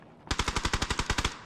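Automatic gunfire in PUBG, a single rapid burst of about twelve evenly spaced loud shots, close and alone, ending abruptly.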